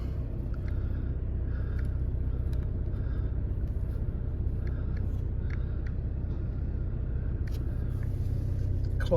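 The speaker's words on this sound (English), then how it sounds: "Just start the car up." A 2.0 TDI diesel engine of an Audi Q3 S line quattro idles steadily after start-up, a low, even rumble heard from inside the car, with faint clicks on top and no talking.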